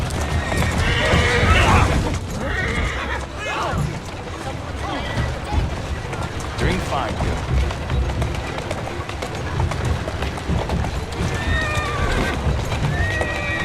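A horse in Assassin's Creed Syndicate whinnies loudly as hooves pound in a steady galloping rhythm, and a voice speaks briefly over the action.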